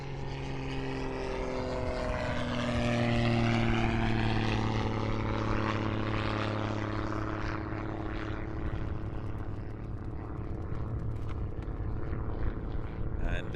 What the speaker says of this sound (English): this very slippery, very fast, and highly manoeuvrable plane, the Edge 540, American, made by Zivco